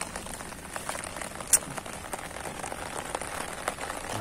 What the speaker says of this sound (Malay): Aduh, hujan teman.